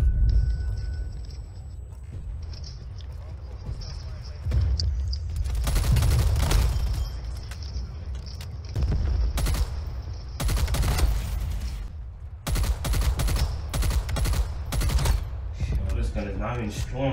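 Bursts of gunfire in Black Ops Cold War, including a pistol and the KSP 45, come as loud clusters of rapid shots separated by short lulls, with game sounds between.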